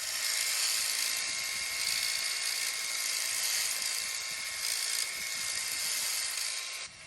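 A cheap cylinder honing tool spins inside an outboard engine cylinder, giving a steady, high-pitched whirring grind that runs almost unbroken and then eases off at the end.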